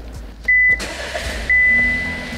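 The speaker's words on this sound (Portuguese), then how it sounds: "Só você ligar o motor." A keyless-ignition car engine starts with a short electronic beep, a whirring crank and a steady idle settling in, with a second tone partway through, close up and fairly loud.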